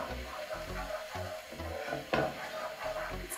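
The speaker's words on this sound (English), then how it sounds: "So I'm just gonna saute this" Onions sauteing in oil in a pan for efo riro vegetable soup, a steady soft sizzle with occasional stirring scrapes, close and quiet.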